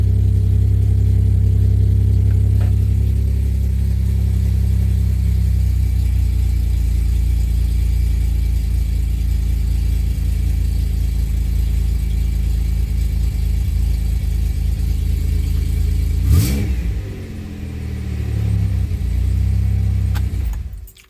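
A 2007 Pontiac Grand Prix GT, just fitted with a new fuel pump, idles steadily and loud up close for about sixteen seconds, then cuts out with a brief thump before a short low rumble and a final stop.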